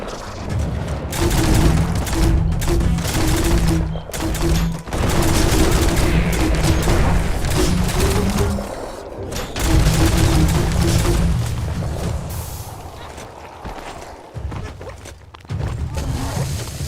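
Gunfire from the video game Biomutant in rapid volleys, loud and close, broken by short pauses between bursts.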